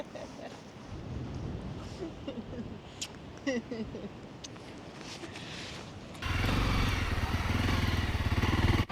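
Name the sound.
motorcycle riding on sand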